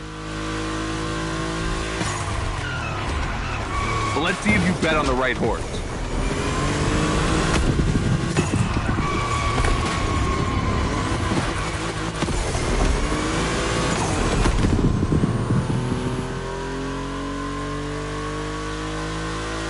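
Volkswagen race cars on track in The Crew Motorfest, engines revving and accelerating with rising and falling pitch as they pass, loud and close through the middle and easing into a steady drone, with a brief spoken line over it.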